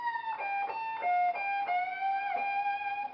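Electric guitar playing a solo lick, opening with a ghost bend that is pushed up before the pick and released, then a string of sustained, bent notes with clear attacks, alone and close.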